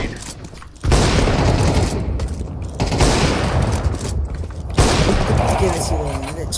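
Grenade blasts and gunfire in the shooter game Counter-Strike 2, dense bursts of explosions and shots starting abruptly and continuing loud and steady, with a second surge later.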